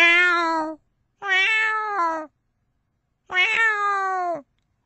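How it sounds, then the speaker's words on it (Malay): A cat gives three long, clear meows with pauses between them, loud and close against an otherwise silent background. "Pukul 1 pagi, dengar kucing mengiau."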